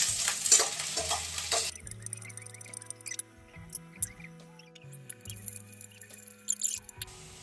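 Ingredients for a pea and potato (batani batate) gravy roast in a hot pan, giving a soft, steady sizzle broken by scraping stirs and small clicks of the spatula, with no talk.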